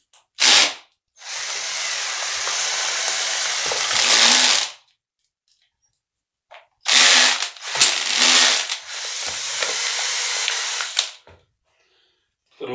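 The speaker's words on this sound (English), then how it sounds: "If your tortoise drill starts making that sound" A drill churns drywall mud for a second coat in a bedroom remodel, with two long loud whirring runs separated by a pause and a few short bursts at the start and end.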